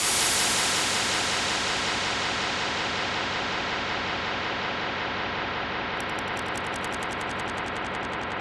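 Steady broadband white noise from a synthesizer, loud and continuous throughout with no other sound.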